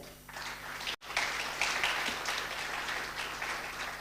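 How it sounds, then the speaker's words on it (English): Audience applause fills a conference hall at a business summit, a dense steady wash of many hands clapping that swells after a brief break and holds strong throughout. "Applause to that."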